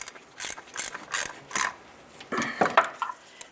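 Ratchet clicks sound in several short bursts, close and fairly quiet, as a starter mounting bolt is tightened on a 2009-2020 Dodge Journey.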